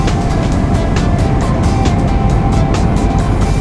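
A Suzuki GSX-R125 motorcycle rides at night, with a loud, steady engine drone and heavy wind rush that stay constant close to the rider.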